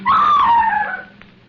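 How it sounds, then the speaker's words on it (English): A woman's sharp, high scream in a 1948 radio drama, loud and sustained for about a second before trailing off. "She turns horrified eyes to me and she screams."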